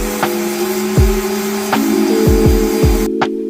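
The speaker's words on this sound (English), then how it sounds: "Might as well sand the rest now." A 3D printed plastic part is sanded with a powered tool, a loud steady whining motor drone with repeated short thumps and pitch dips, stopping near the end.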